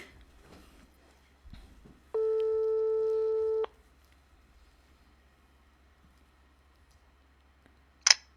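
A telephone line rings out during a radio call-in, one steady electronic tone of about a second and a half over a quiet, hissy line, bracketed by faint clicks.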